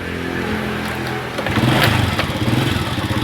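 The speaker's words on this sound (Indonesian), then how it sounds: "kita hidupkan motornya" A Honda Astrea motorcycle engine catches after a brief quiet stretch and settles into a close, loud, rapid putter with no talking.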